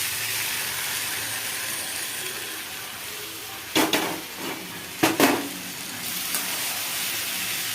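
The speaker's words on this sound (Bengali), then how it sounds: "এবার ওই লাউ শাকটা সাঁতলে দেবো" Bottle gourd greens (lau shak) sauté in a hot pan with a steady soft sizzle, broken by two clusters of sharp spatula-on-pan clatters and a lighter tap near the end. No voices.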